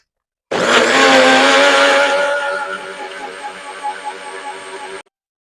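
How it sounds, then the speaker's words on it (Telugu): An electric mixer grinder whirs while blending curd for buttermilk, starting abruptly at full power with a loud strained hum that gradually settles into a steadier, lower drone before stopping. "కర్డ్ తీసుకుని మళ్ళీ మిక్సీ పట్టండి."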